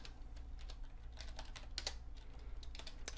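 Quiet keystrokes tap out code on a computer keyboard in an irregular, steady patter of light clicks over a low hum, with no voices.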